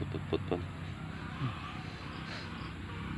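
Chickens cluck in a few short bursts near the start, with softer clucks later over a faint outdoor background hum.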